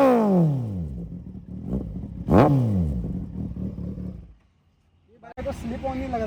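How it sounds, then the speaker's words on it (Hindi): A Kawasaki motorcycle with a slip-on exhaust revs loudly nearby in several rising and falling blips, then falls briefly silent before the engine and voices return. "चलो भाई एक बाइक स्टार्ट करके जनता को आवाज़ भी सुना दो"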